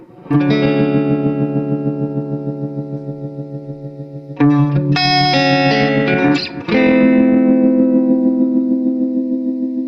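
Major chords ring out on an electric guitar played through a vintage Nobels TR-X tremolo pedal, each chord pulsing in a steady wavering throb as it sustains, with a few fresh strums and no voices.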